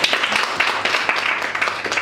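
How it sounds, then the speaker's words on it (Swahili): Applause for Shalom at a graduation event, with dense, steady clapping from a crowd that keeps up throughout the clip at moderate loudness, without clear speech over it. "Sasa makofi tena kwa Shalom"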